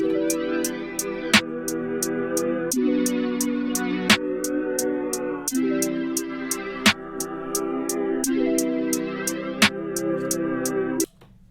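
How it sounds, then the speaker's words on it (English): An RnB beat loop keeps a steady stream of crisp hi-hat ticks, with sharp claps landing regularly over sustained, warm chordal tones, loud and continuous until a sudden stop at the end. "I dragged in the loop, I added the hi-hats and the claps, and together it sounds like this."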